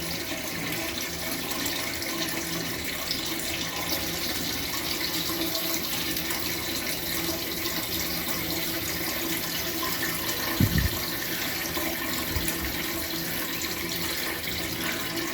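Water runs steadily while a central heating radiator is refilled on a home-made reversible mains flush system with a condensing boiler, a constant hiss with one brief low knock near the end and no speech.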